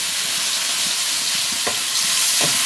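Tomatoes and four chopped green chillies sizzle in hot oil with onions in a pan, for a fish roe dish: a steady, close, broadband frying hiss with a few soft clunks of stirring and no voices.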